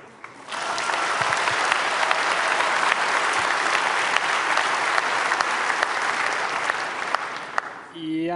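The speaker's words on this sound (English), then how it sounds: "please welcome them with a huge round of applause" A large conference audience claps loudly and steadily for about eight seconds to welcome speakers onto the stage, a dense, sustained wall of applause that cuts off abruptly at the end.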